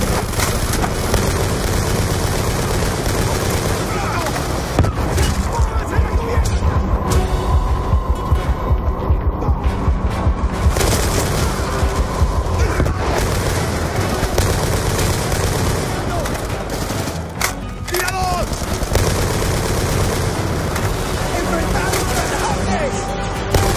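Gunfire and RPG explosions crack and boom in the Black Ops 2 video game, dense bursts of shots over a droning background hum, while voices shout across the fight.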